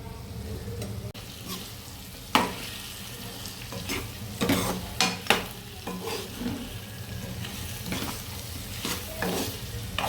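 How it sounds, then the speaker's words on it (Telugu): A spoon stirs chili powder into a sizzling chicken gravy of drumsticks, giving a steady frying hiss with several sharp scrapes and clatters against the pan, heard up close with no voices. "ఇప్పుడు కారం కలిసేలా కలుపుకుందాం."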